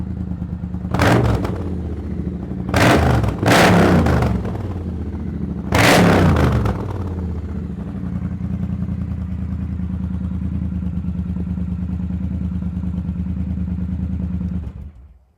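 A Triumph T120 motorcycle set up in tracker style barks through its exhaust in several sharp revs, then settles into a loud, steady idle rumble before cutting off.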